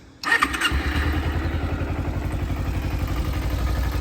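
A stock Kawasaki Ninja 250 motorcycle, cold, cranks briefly and catches, then settles into a steady, close and loud idle with a rapid, even engine pulse.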